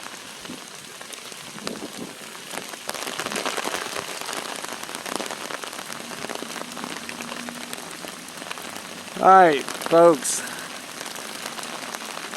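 Steady heavy rain with lightning patters across the whole clip as broadband hiss at a library site and retention pond, with a voice speaking briefly near the end over the downpour.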